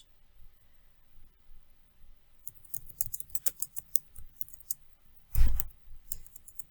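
Computer keyboard typing in an office chat app, a quick run of light key clicks and taps from about 2.5 seconds on, near and fairly quiet, ending with one louder thump, no voices.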